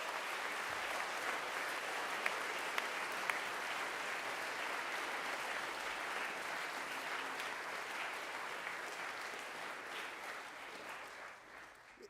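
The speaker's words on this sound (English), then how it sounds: "Nige, can we have a round of applause for your coaches?" Sustained applause from a congregation of students and staff in a school chapel, honouring the coaches; steady, dense clapping that carries on for the whole stretch and fades slightly at the end.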